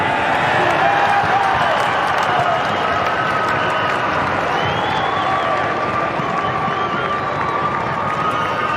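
Stadium crowd at the 2011 VFL Grand Final between Port Melbourne and Williamstown cheers and applauds for player Ryan McMahon, a loud, dense sustained roar with clapping running steadily throughout.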